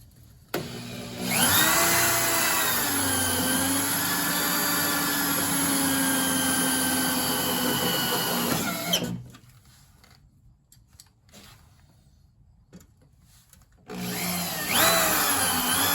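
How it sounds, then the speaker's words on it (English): A wire brush spun on a drill scours the metal of a 1968 Pontiac Firebird convertible's inner rocker panel, a loud, harsh whirring grind that runs for several seconds, stops, then starts again after a quiet pause. "What I did take is a wire brush on the drill"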